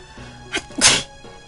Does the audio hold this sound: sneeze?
yes